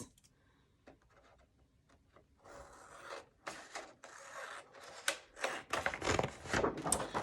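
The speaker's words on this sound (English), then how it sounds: "get some scissors and just cut around" Scissors snip steadily around a paper card, a run of close, crisp cuts that starts sparse and grows busier and louder toward the end.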